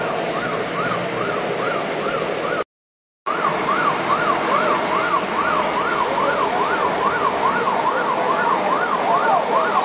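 A fire truck siren wails, cycling up and down continuously, loud and fairly close, with a brief drop-out near the start, over traffic rumble.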